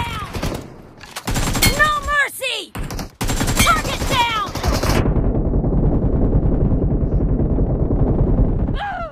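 Rapid automatic gunfire bursts in the mobile shooter BGMI, played on an iPhone 11, loud and close with short pauses between volleys, followed by sustained continuous firing.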